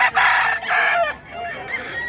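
A rooster crows close by in a short, loud call with a rising then trailing cock-a-doodle pattern, heard alone.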